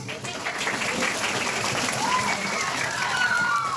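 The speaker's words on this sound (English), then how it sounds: "let us clap our hands for our teachers" An audience claps for teachers at a school Teacher's Day program, a dense, steady round of applause from a large group, with a few voices and cheers rising above it.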